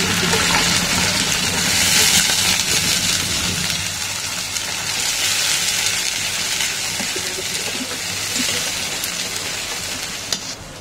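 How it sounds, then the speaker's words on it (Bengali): Water poured into a kadai of browned onions frying in oil, raising a loud rushing sizzle that swells early, then settles into a steady hissing bubble for several seconds. "এই তো পেঁয়াজটা আমার বাদামি কালার হয়ে গেছে। এখন আমি পানি দিয়ে দিব।"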